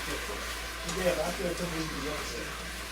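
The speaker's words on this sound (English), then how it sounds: "And we just browning." Oxtails brown in a hot pan with a soft, steady sizzle, faint and continuous beneath a voice talking over it.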